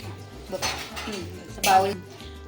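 Cooked Korean ramen noodles strained and moved into a bowl, with several clinks and clatters of metal dishes and utensils, a louder knock near the end, while people talk in the background.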